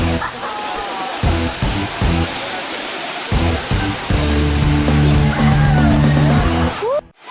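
Steady broadband roar of the three-tiered Luaha Ndroi waterfall in Alasa fills the clip, loud and continuous, with voices talking over it before it cuts off near the end.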